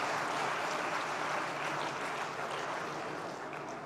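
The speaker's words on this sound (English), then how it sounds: "you clap for me" An audience of accountants at a congress claps for the speaker, a dense, steady wash of applause that fills the hall at even loudness throughout, with no talking over it.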